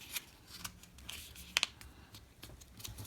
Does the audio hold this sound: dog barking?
no